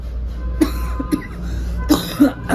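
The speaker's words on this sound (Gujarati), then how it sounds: "અત્યારે ખાંસી તો આવે જ છે પણ કંઈ વાંધો નહીં" Several short, sharp coughs close to the microphone, spaced irregularly over a low steady background hum.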